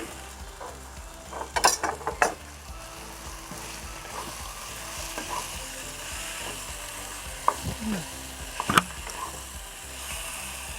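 Minced pork sizzles and fries with onion in a pan, a steady crackling hiss throughout with a few louder bursts of stirring and scraping from a utensil, close and without talk.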